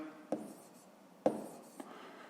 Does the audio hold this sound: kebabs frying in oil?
no